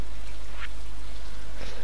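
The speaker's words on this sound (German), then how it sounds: "So, ein neuer Morgen und es regnet." Rain falls steadily in the farming video game Stardew Valley, a constant hiss with a few faint higher patters on top.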